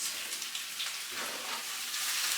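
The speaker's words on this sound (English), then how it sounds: "we're gonna let this saute for about 5 minutes until it's wilted, but not totally cooked" Scallions or spring onions sautéing in a pan give off a steady, even sizzle that holds for the whole stretch, close and moderately loud, with no one speaking.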